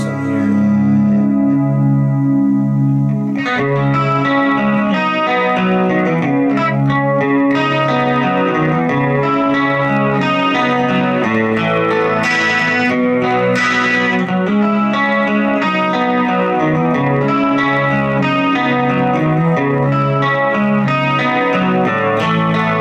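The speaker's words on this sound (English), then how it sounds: "I'll throw on some chorus here real quick and give you an idea of what that sounds like" Electric guitar, a G&L Tribute Fallout, through a Vox Valvetronix VT40 amp with chorus effect switched on, playing a steady strummed and picked passage with shimmering modulated tone, loud and continuous with no talking.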